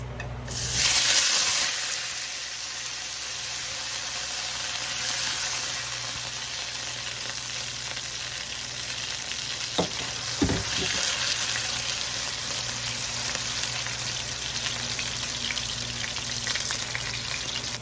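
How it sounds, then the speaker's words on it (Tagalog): Potatoes fry in hot oil for a spicy dish, a dense, even sizzle that runs close and steady throughout, with a brief splashy burst at the start and a few faint knocks of a utensil. "At i-fry din po natin ang patatas"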